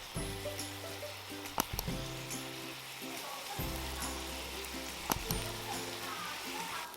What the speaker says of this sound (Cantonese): 用慢火去炸啲蒜蓉